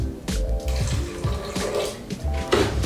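Water is poured into a blender jar holding green peppercorns, palm sugar, mirin and soy, giving a short burst of splashing and trickling that comes in uneven gushes, close and fairly quiet.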